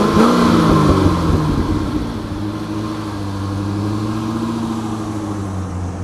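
A 2007 Chevrolet Corvette with a six-speed gearbox accelerates past in a flyby, its engine roaring loud and close at first, then settling into a steady droning tone that carries on without any voices.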